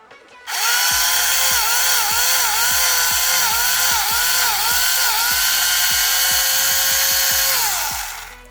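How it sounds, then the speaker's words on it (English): A small high-pitched Tamiya handy drill with a grinding bit whirs continuously for several seconds, its pitch dipping repeatedly as it bites into plastic, close and loud. "Using our handy little tamiya handy drill, which really is handy."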